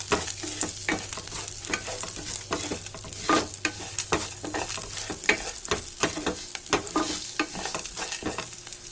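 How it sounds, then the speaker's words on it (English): Whole spices frying in a pan over a low flame for curd curry with vegetables: a steady close sizzle with repeated stirring scrapes and clicks throughout, over a faint low hum. "We'll let the spices cook for maybe half a minute, 30 seconds"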